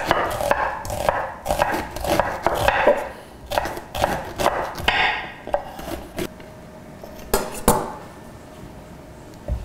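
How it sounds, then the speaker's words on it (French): A knife slices an onion on a cutting board with a quick series of sharp, close chops, a brief pause, then a few more sparse knocks of the blade against the board. "Oui, on va couper l'oignon, qui lui sera également saisi à la poêle."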